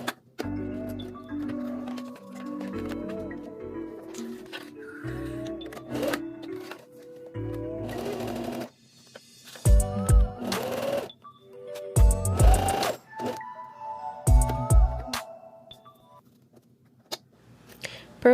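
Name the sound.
sewing machine sewing recycled jeans lining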